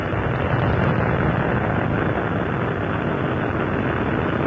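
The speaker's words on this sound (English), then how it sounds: "Main engine start. 4, 3, 2, 1, and liftoff of Space Shuttle Atlantis" Space Shuttle Atlantis main engines roar at liftoff, a dense, loud, continuous rumble with no break.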